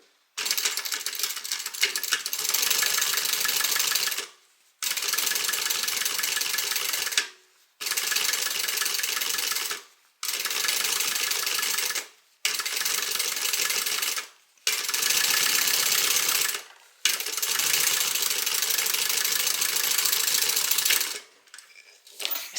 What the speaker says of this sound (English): putting this upper lining to the top with the seam allowance behind and top stitch